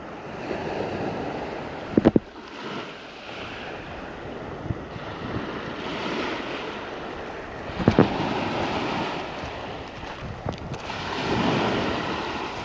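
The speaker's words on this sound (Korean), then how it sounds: "파도가 거의 장판 수준입니다." Calm sea washing onto Yeomjeon Beach in Geunnam-myeon, Uljin, near the lower reaches of a river: steady low surf and rushing water with wind noise across the microphone, broken by a few sharp clicks, with no talk.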